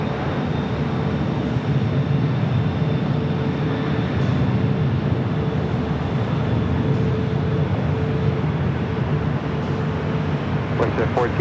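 A jet airliner rolling down runway 25 Right at Los Angeles International Airport, a steady broadband roar heard from a distance that holds level for the whole stretch, with faint background sounds of an airfield.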